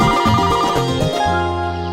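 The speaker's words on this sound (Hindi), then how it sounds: "अरे मेरे सुपरस्टार का फोन आ गया।" A mobile phone plays a melodic ringtone, a bright repeating electronic tune that rings out clearly and alone for two seconds.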